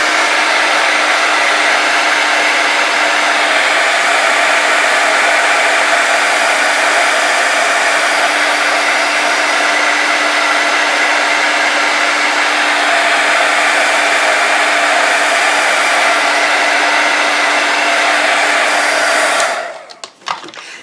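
A heat tool on its high setting blows loudly while drying brown ink in a debossed card-making technique, a steady whirring roar sustained for about twenty seconds before switching off abruptly.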